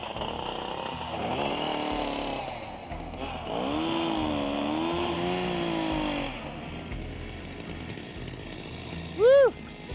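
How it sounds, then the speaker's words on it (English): A chainsaw cuts through spruce, its engine droning and bogging in long loud passes with a pitch that rises and falls as it bites, followed by a brief high whine near the end. "That was Dene Chainsaw Spruce Massacre right there."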